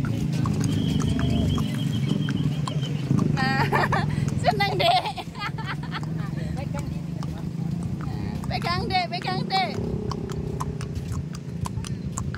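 Horse walking on a roadside with hooves clip-clopping in uneven bursts, heard beneath frequent children's and adults' chatter, with a steady outdoor rumble underneath.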